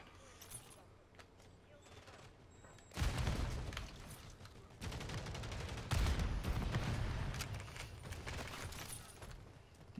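Video game gunfire in Modern Warfare 3 on the Slaughterhouse map: after a quiet stretch, dense bursts of automatic shots and impacts erupt and continue in loud, rattling waves with a brief lull between them.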